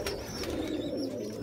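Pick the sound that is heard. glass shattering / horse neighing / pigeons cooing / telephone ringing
pigeons cooing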